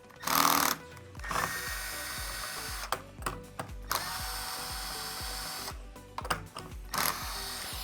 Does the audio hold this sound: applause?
no